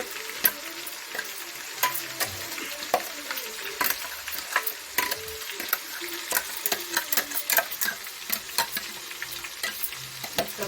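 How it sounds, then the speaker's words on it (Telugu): Ginger garlic paste fries in peanut oil, a soft steady sizzle broken by frequent sharp clinks and scrapes of a spoon stirring against the pan, close and without speech. "అల్లం వెల్లుల్లి పేస్ట్ వేసేస్తున్నానండి దీంట్లోకి వేగడానికి."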